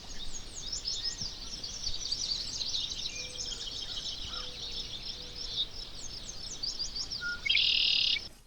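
Birds sing and chirp repeatedly along the quiet banks of the Missouri River, with bright, high calls scattered throughout and a louder, sharper call close by near the end, over faint open-air background.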